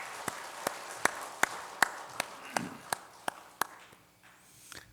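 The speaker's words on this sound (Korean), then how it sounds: "박수 치겠습니다." A church congregation claps in unison during a worship service, about a dozen sharp, evenly spaced claps in a steady beat that thin out and fade near the end, fairly quiet in a reverberant room.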